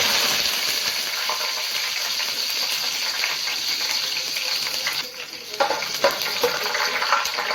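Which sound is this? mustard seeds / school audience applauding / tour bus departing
mustard seeds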